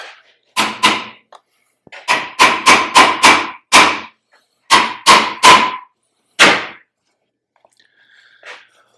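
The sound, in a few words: hammer striking welded steel brace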